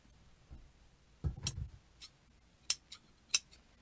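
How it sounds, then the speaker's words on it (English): Large scissors snipping through material while making a welcome wreath sign, a short rustling cut followed by several sharp, crisp metallic snips spaced apart, close and fairly quiet. "My monster scissors."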